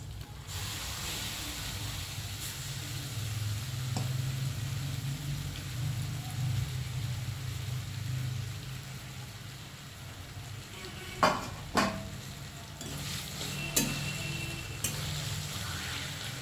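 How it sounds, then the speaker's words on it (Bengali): Mashed roasted eggplant stirred into sizzling fried onion, garlic and green chili in a pan. A steady, fairly loud frying hiss runs throughout, and a few sharp spoon clinks against the pan come near the end. "এই বেগুন পোড়াটাকে আমি এর মধ্যে দিয়ে দিচ্ছি"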